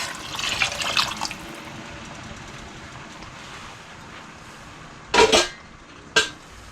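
Pork stock pours into a cooking pot in a home kitchen, a liquid splash at the start followed by quiet, then two short sharp clanks of the pot near the end.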